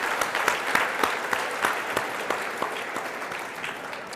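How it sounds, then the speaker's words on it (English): Audience at the Canadian Horse Racing Hall of Fame event claps in sustained, dense applause, a steady patter of many hands filling the room without a break. "So big round of applause."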